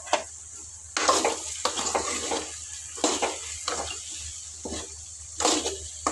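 Chopped capsicum with potato is stirred in a pan, with a series of scraping, sizzling strokes about every second against a steady low hum. The strokes are close and uneven in strength, and nobody speaks.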